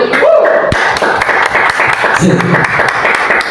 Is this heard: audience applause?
yes